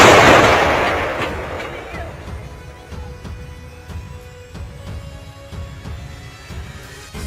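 Artillery fire striking a column of Russian T-72B tanks in eastern Ukraine: a loud, close blast that slowly decays into a rumbling roar, followed by a run of sharp, distant booms and pops at irregular intervals.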